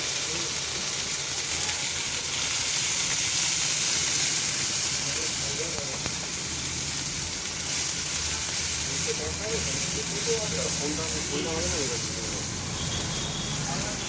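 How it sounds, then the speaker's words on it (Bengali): A paste of ginger, cumin and green chilli fries in hot oil with a loud, steady sizzling hiss throughout, while a person talks over it. "দেখুন আদা জিরে বাটা দিয়েছি"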